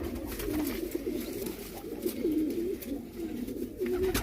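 Pigeons cooing nearby in a loft in Multan, soft repeated throaty coos over a low background murmur.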